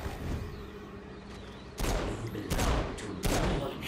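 Pistol gunfire in Saints Row: Gat out of Hell, several sharp shots cracking out over a low game ambience, the bursts spaced irregularly in the second half.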